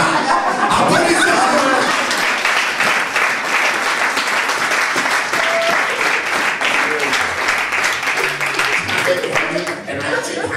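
A church congregation applauds at a sermon, giving loud, sustained clapping from a full room, with scattered laughter and chatter mixed in as it fades slightly toward the end.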